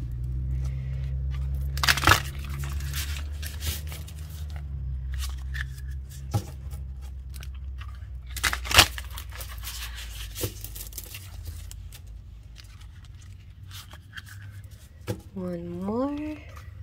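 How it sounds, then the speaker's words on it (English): Tarot cards are shuffled in bursts of riffling and sliding with soft taps between, close by, and a voice briefly hums near the end. "a little shuffle"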